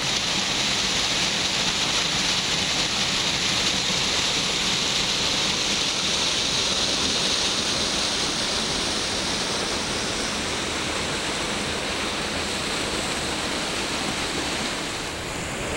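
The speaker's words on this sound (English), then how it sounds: "it's pretty loud because of this waterfall back here." Waterfall on a small creek, a loud, constant broadband rush of falling water heard up close, steady and unbroken with no voices over it.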